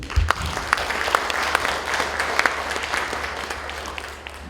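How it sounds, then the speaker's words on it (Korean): An audience claps steadily after a speaker is introduced at a Korean lecture, a sustained round of applause from a seated crowd at moderate distance, with no talking over it. "박수 한번 해주십시오."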